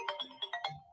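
A mobile phone ringtone plays nearby, a short melodic run of five bright, distinct tones in quick rhythm, moderately quiet and with no voices over it.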